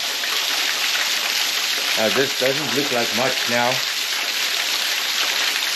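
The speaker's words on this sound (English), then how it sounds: "I'm standing in the stream." Water runs through a small stream at the base of a dry-season waterfall, a steady broadband rush heard up close and continuous throughout, with someone speaking briefly over it in the middle.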